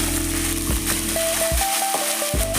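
Onions, curry leaves and green chillies frying in oil for a hotel-style idli sambar, a steady close sizzle with repeated scraping and clattering stirring strokes throughout, no voices.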